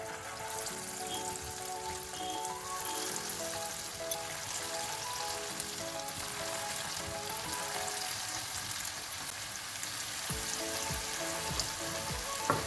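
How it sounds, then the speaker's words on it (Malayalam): Cabbage manchurian balls deep frying in hot oil give a steady, dense sizzle and crackle that holds close and even, with a few soft knocks near the end. "ഓരോ ബോളുകളും ഇട്ട് ഫ്രൈ ചെയ്തെടുക്കാം."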